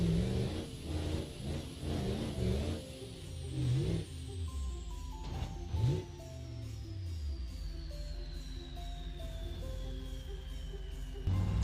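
A GMC Sierra Denali pickup engine climbs a snowy mountain road with a Christmas tree in the trailer, a steady mid-pitched drone that revs and strains, with a long falling whine running beneath it.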